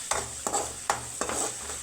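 Slit green chillies sauté in groundnut oil for Madurai pepper chicken, a steady close sizzle broken by four quick scraping stirs of the spatula in the pan, with no voices.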